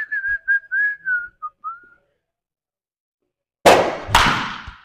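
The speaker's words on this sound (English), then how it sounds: "I'm going to whistle a little bit" A person whistles a short wavering tune for about two seconds, then silence, followed by two sharp cracking bangs.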